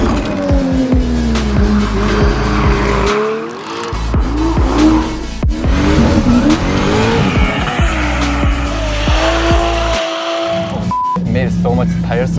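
A Tesla Model 3 tuned by Evasive Motorsports squeals its tires loudly at Buttonwillow Raceway, with repeated skidding shrieks and motor whine close by, broken by short pauses, while people talk over it.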